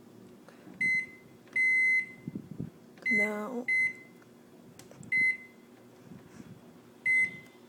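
A microwave oven beeping as its timer is set before popping plain corn kernels, short sharp electronic beeps repeated at irregular intervals, with a person speaking briefly between them.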